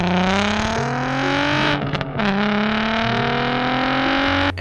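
A Volkswagen VR6 engine revving hard, a loud, raspy, rising howl that briefly drops off and then climbs again, heard up close with no talk.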